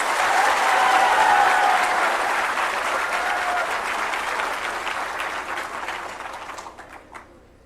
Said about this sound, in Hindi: एक बार और जोर से ताली बजाइए।